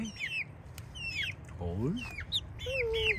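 Chickens near an automatic coop door cluck and squawk in short, close bursts, several calls rising and falling across the moment, with a person briefly speaking over them.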